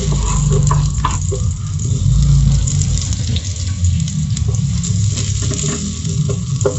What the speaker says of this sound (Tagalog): Unahin natin ang bawang.